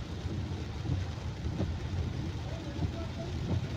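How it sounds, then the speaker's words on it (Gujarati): Heavy rain falls steadily in Bodeli village, a dense continuous hiss and patter, with a voice talking over it. "બોડેલીમાં આવો વરસાદ છે."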